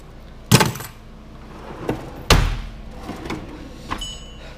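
A tool chest drawer holding a drill and drill bit set is handled, with two sharp, close knocks as it moves, plus lighter clicks and a faint metallic rattle in between.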